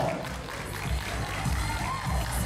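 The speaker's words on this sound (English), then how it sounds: "I think that deserves a round of applause" Crowd at a pull-up competition cheering and shouting steadily, a dense continuous roar with a few raised voices rising out of it, moderately distant and sustained throughout.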